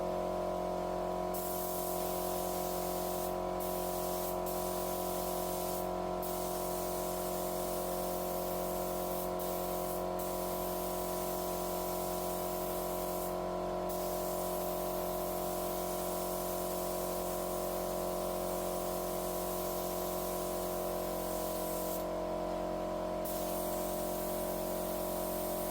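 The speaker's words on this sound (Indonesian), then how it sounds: "dan kita akan semprot sampai glossy." A spray gun lays glossy black paint on a motorcycle body panel, giving a continuous close hiss broken by several brief pauses over nearly half a minute.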